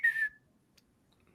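Whistle sound effect used as a bleep, a single short sharp tone lasting about a third of a second, alone and then silence.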